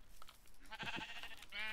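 Sheep bleat in the video game Tado's Dream II: a short wavering bleat, then a longer, louder harmonic one, close and clear over a faint background.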